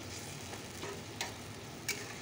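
Fish sizzles in a pan for a fish curry, a soft, even hiss with a couple of sharp utensil clicks.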